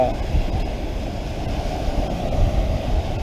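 Strong wind roars against the microphone as rough sea waves surge steadily at a fishing spot, a dense, constant rumble with no talking.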